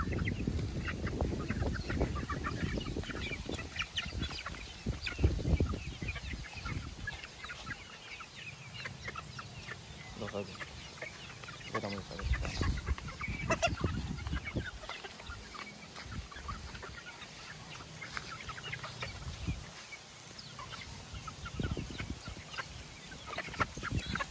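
Gamefowl chickens on a farm raising broodstags cluck and crow nearby and farther off, a continuous, busy mix of calls over outdoor background noise.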